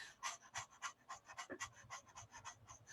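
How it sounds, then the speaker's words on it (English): Rapid, rhythmic breath of fire breathing, a quick series of forceful exhales through the nose at a steady fast pace, faint and close with no talk. "So breath of fire is very fast."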